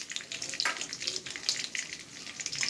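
Chicken pakora frying in hot oil, giving a steady bubbling sizzle with scattered pops and crackles, close and continuous throughout.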